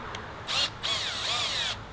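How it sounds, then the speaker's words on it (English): A power drill bores a larger hole into a toolbox in the bed of a Polaris Ranger, giving a high, whining grind in two short bursts over faint background noise, close by. "use a little bit bigger drill to make the hole bigger"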